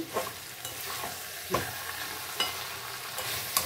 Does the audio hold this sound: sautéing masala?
yes